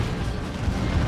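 A low, rumbling Blight Grenade blast from Dawn of War 2 sounds as a short, dense boom with a heavy low end that fills the whole moment.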